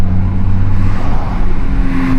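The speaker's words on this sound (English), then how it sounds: "this GT3 with the IP exhaust." A GT3 fitted with an IP exhaust roars close by, its engine note rising and falling through quick downshifts in a loud, continuous burst.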